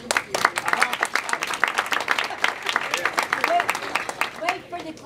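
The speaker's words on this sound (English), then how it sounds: "Wait for the clapping." An audience claps in scattered, sharp bursts at a political candidate event, moderately distant and uneven throughout.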